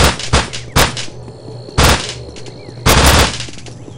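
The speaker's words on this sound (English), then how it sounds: "Ooh, nail gun." Nail gun firing in the video game Postal 2: four loud, sharp bursts spaced about a second apart, each a short rattling volley, with quieter game ambience between them.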